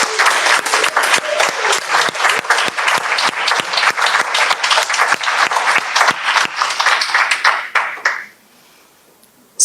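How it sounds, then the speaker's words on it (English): An audience at a Sunday gathering applauds volunteers, a loud, dense burst of many hands clapping that carries on steadily before stopping abruptly near the end, leaving near silence. "So why don't we send a big applause to all volunteers."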